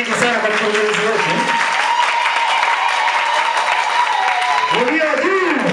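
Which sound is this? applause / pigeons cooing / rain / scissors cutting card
applause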